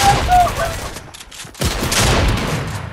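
Rapid bursts of gunfire ring out in Fortnite, loud and close, with a short lull before a heavy burst resumes.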